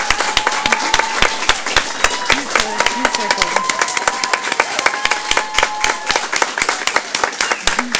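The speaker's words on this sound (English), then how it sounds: "Big round of applause." A crowd applauds steadily with dense, continuous clapping, while a voice calls out faintly over it.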